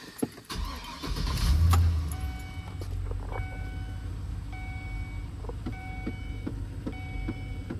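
A Chevy Silverado, being tested for a reduced engine power fault, cranks briefly and its engine catches and settles into a steady idle, with a few electronic chimes beeping afterward inside the cab.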